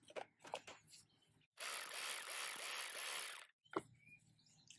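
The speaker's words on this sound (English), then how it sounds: "And the ratchet itself." A cordless 12-volt ratchet runs in one continuous burst of about two seconds, a close, loud mechanical whirring with rapid clicking, set between quieter handling noises and faint birdsong.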